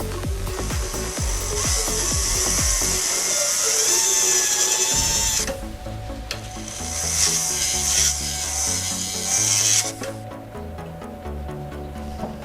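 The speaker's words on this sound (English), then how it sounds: "cutting it with the wheel burr will help it seat in the right spot" A wheel burr grinds a notch into a silver pendant in short bursts of high-pitched rubbing and whirring, with brief pauses and scraping between passes, close up and with no talking.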